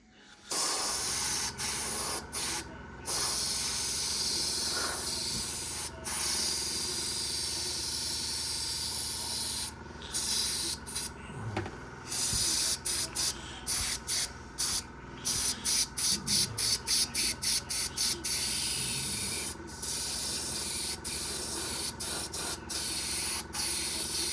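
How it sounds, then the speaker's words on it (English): Steady airbrush hiss spraying paint on a 1/72 Airfix Vulcan model kit for long stretches, broken by brief pauses and a series of quick on-off bursts near the end. "So it's spraying all right and it's looking all right."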